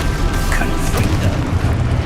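A Confringo explosive spell blast in the video game Hogwarts Legacy, a loud, booming, continuous rumble of fiery detonation filling the clip, with a faint voice mixed underneath.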